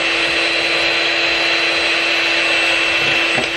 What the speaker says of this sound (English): You're gonna wanna get your electric whisker out.